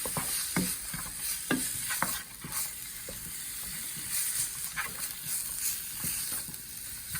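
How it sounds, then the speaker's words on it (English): Celery and other ingredients for an Indo-Chinese hot and sour soup are stirred in a hot pan, with a constant sizzle and frequent sharp spoon clicks and scrapes up close, no voices. "And mix together. And cook 20 to 30 seconds."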